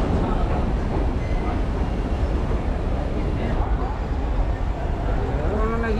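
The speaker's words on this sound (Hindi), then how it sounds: "तो दोस्तों जिस ट्रेन से हम लोग आए थे वो चली गई है" Train at a railway station in Nepal, a continuous broadband rumble of rail traffic and platform bustle with a faint squealing tone near the end, with people talking throughout.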